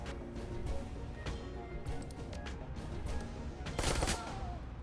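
Gunfire in the video game Shadowrun: Hong Kong: a dense run of sharp shots and bursts over a loud, busy combat mix, with the heaviest burst near the end, lightly under a voice.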